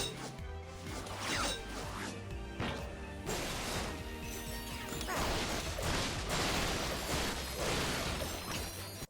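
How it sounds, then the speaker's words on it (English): Wooden crates smashed repeatedly in the Ratchet and Clank PS4 game, a dense run of loud cracking breaks and clattering debris over continuous game music and effects. "breaking crates is so satisfying"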